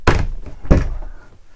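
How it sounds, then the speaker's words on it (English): A cabin door aboard a 2015 Discovery 58 yacht is closed, giving two solid, close wooden thunks in quick succession, the second a little heavier, followed by a brief quiet decay. "Close that door a moment."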